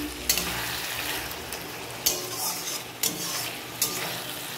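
Kochu shak (taro greens) with chopped green chillies, oil and hilsa fish head sizzles in a frying pan. A steady close fry is broken by four distinct scraping clacks of a spatula stirring at roughly one-second intervals.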